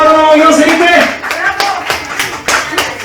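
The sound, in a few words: applause for a team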